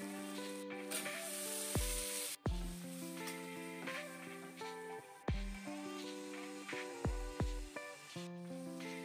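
Ginger-chilli masala paste fries in oil for aloo dum, a continuous sizzle running under a bright, tonal background, broken by a few abrupt cuts and stirring scrapes, with no voices heard.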